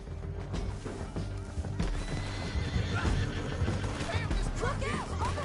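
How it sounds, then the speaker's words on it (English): Horses whinny and hooves clatter in a Western gunfight scene, several animals moving at once, loud and busy, mixed with shouting voices and action noise. "Get him on your horse."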